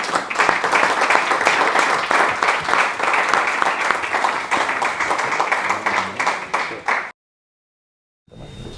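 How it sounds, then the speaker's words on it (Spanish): Audience applause for a friend at an event, many hands clapping loudly and continuously for about seven seconds before cutting off abruptly into silence, followed by faint room sound. "un aplauso para mi amigo Fernando"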